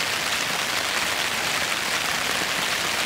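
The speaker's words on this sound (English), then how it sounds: "Yeah, it's starting coming down pretty hard." Heavy rain pours down by a creek at a backpacking campsite, a dense, even, loud hiss of drops with no pauses and no voices.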